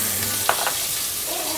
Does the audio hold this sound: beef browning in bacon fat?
yes